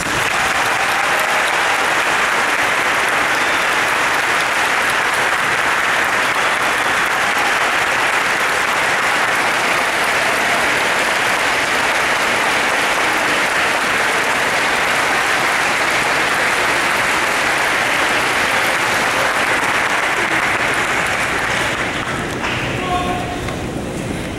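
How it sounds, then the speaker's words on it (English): A large crowd at a 2015 high school graduation ceremony claps in a long, sustained, loud wash of applause that carries on for over twenty seconds before easing off near the end. "I invite the entire Briarcliff High School community to honor you with a round of applause."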